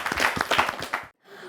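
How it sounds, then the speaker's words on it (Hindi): A short burst of applause for a gold-medal-winning geometry olympiad child in a television studio, a few seconds of close clapping that stops abruptly. "जोरदार तालियां"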